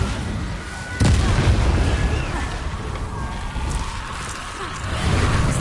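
An Incendio fire spell in the Hogwarts Legacy video game lands with a sudden heavy whoosh and boom, then a roaring, crackling rumble that continues steadily amid loud game effects.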